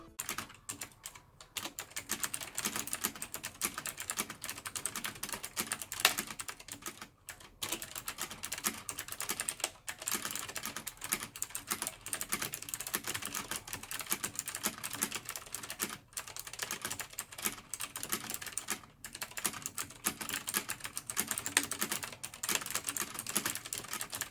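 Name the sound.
typing on HP Omen Sequencer optical keyboard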